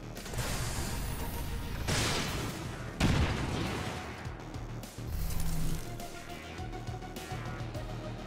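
Bombard artillery strike from XCOM 2, a dense run of loud booms and crashing impacts rolling over about eight seconds, with heavy bursts near the two-, three- and five-second marks.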